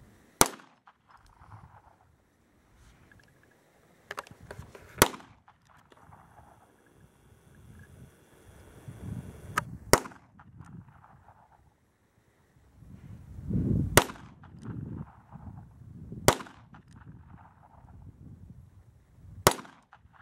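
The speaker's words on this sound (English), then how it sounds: "I'm going to shoot a cylinder worth of it at this steel target right here" Six sharp, loud shots from a Smith & Wesson Model 34 .22 snub-nose revolver fired at a steel target, spaced a few seconds apart over light wind and outdoor background noise, with no speech between them.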